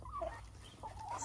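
Hens in a backyard chicken coop clucking softly and intermittently, a few short calls near the microphone over a quiet low rumble.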